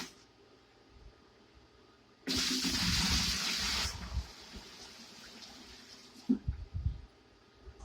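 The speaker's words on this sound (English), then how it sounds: "Plug it up, water comes up the hose, through the coils." In a homemade air conditioner, a small pump pushes water up a hose through the coils, switching on with a sudden rushing gush that runs about two seconds before fading into faint trickling and a few clunks.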